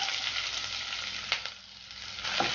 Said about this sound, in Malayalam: ഇനി ഇതിൻ്റെ പച്ചമണം മാറുന്നത് വരെ ഒന്ന് വഴറ്റി കൊടുക്കാം.